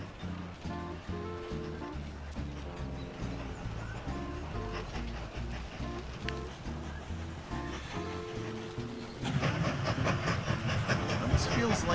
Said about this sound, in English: Alright, so our high-speed train